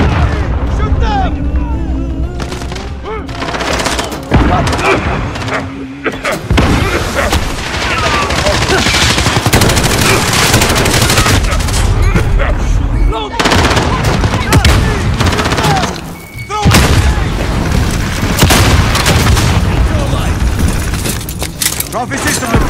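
Heavy, nearly continuous gunfire in the shooter game Call of Duty Modern Warfare during a multiplayer hardpoint match: loud overlapping bursts, booms and mechanical clatter over about twenty seconds, with a couple of brief lulls and voices shouting now and then.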